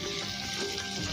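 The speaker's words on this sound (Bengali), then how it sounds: "এবার আমরা চিংড়ি মাছের মাথাগুলো ঢেলে দিলাম" Prawn heads hit hot cooking lentils (mung dal), giving a steady, close, bright sizzle and frying hiss without talk.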